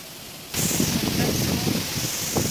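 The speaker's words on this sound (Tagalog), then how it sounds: "Yan, umuulan guys. Hindi, sobrang lakas ng hangin." Heavy rain and strong wind from Tropical Storm Kristine sweep past a farmhouse, a sudden loud broadband rush that starts abruptly and roars steadily close to the microphone.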